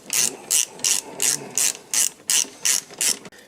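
A ratchet with a 15mm socket turns the bolt of a Porsche 911 996 idler pulley, about nine crisp clicking bursts in a steady rhythm, close and clear with no talk.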